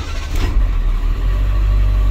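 A 2000 International 4700 truck that had trouble starting fires up, its engine catching and then settling into a loud, steady, low-pitched idle rumble close by.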